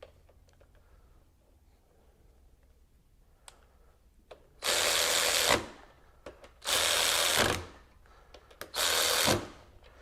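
A RIDGID 18V extended reach cordless ratchet runs in three loud, close bursts of about a second each, spaced by short pauses, its motor whirring as it works a tight bolt loose.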